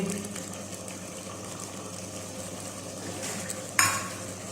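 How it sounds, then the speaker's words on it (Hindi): Green coriander is stirred into a simmering chana masala gravy over a continuous soft sizzle, with spoon scrapes and a sharp metallic clink against the pot near the end. "और अच्छी तरह मिक्स कर लेंगे"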